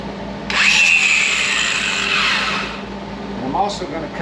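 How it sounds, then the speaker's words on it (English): A power tool bites into sheet metal at an angle during a car quarter panel repair, a loud rising whine lasting about two seconds before cutting off, followed by quieter scraping and a brief voice. "I'm also going to cut it at an angle"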